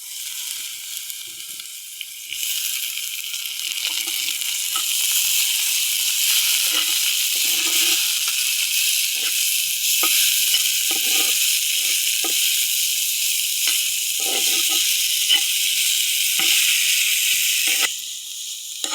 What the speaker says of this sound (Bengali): পটলগুলো দিয়ে হালকা একটু ভাজে নিলাম